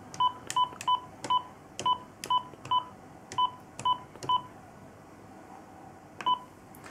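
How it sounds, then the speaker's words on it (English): Siemens OpenStage 60 desk phone dialing a number, a rapid series of about a dozen short, clean DTMF keypad tones with brief uneven gaps, heard close and alone in a quiet room. "I'm just going to dial my cell phone"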